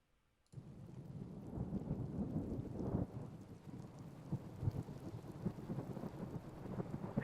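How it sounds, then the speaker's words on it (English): A rumble of thunder played backwards swells in from silence, building and rolling with a rain-like hiss, no voices present. "it's just a thunder strike that has been reversed"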